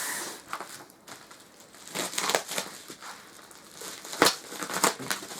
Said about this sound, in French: On va tout de suite déballer la réplique, on va déballer ce qu'il y a là.